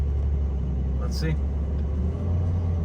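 A Porsche 911 Carrera T of the 992.2 generation idles with its sport exhaust switched on, giving a steady low rumble throughout while someone talks briefly over it.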